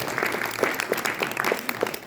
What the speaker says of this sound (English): another round of applause for the modular class students